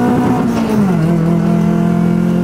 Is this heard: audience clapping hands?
no